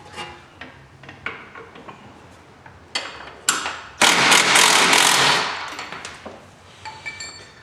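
An open-end wrench works bolts loose from a golf cart front axle cover, with irregular metallic clicks and taps, then a louder burst of rattling and scraping mid-way, close by.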